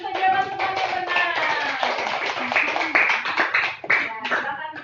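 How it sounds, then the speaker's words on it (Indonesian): Classroom students clapping together for a classmate's correct answer, a close, loud burst of uneven hand claps lasting several seconds with voices mixed in. "Ayo berikan tepuk tangan untuk jawaban temannya benar."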